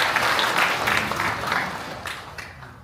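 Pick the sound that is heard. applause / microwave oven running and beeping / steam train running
applause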